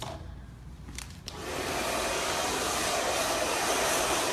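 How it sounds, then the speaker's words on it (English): Hair dryer switched on for blow-drying short hair at a salon, a steady loud airy whoosh that starts after a second of quiet handling sounds and holds continuously. "Now it's time for me to pick up the dryer."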